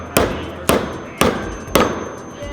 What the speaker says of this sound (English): and hammering nails